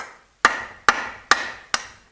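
A dead blow hammer strikes metal parts during a lathe restoration, four sharp, evenly spaced blows about half a second apart, each ringing briefly before decaying, with quiet between.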